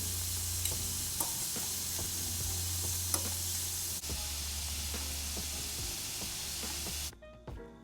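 Shrimp sizzle steadily in a hot pan, a dense continuous fry with occasional stirring clicks and scrapes, fairly close, stopping abruptly near the end.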